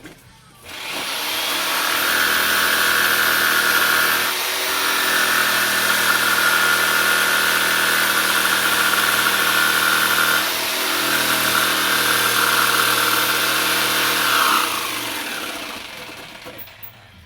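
A power tool cuts down the windshield of a 2000 Honda Goldwing 1500 motorcycle, giving a loud, steady whine that holds for about fourteen seconds with slight dips, with no other sounds.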